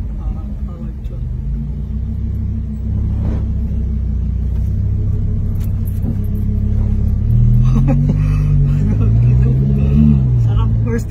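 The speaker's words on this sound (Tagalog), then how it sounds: "First time kong mag-drive ng Lamborghini." A Lamborghini sports car drives with a steady, loud engine rumble throughout, rising in pitch as it revs and accelerates in the latter half, while people talk excitedly inside the car.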